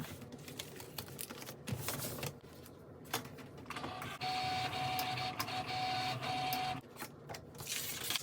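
An electronic cutting machine works through an Infusible Ink transfer sheet, giving a steady mechanical whir and carriage hum with clicking, buzzy motor passes that start and stop, close and moderately loud.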